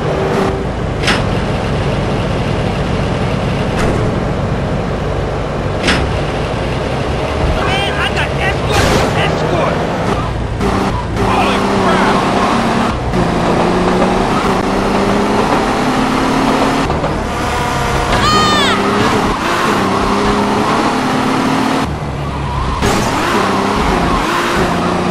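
A car driven in the PSP game GTA Liberty City Stories, its engine droning steadily for the whole stretch with repeated bursts of tire skidding and squealing, loud and close, while voices talk over it.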